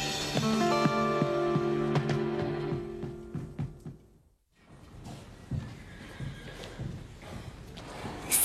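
A horse neighs and whinnies in a stable setting, long harmonic calls sweeping up and down over the first four seconds, then a brief hush followed by scattered hoof thumps and rustling movement.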